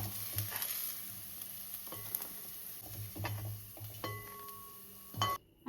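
Onion, chilli and other ingredients frying in oil for beef fry, with a soft steady sizzle under repeated stirring scrapes and occasional metallic clinks of a spoon against the pan.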